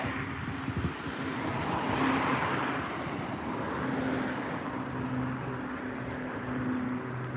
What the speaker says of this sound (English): I think this is a cargo plane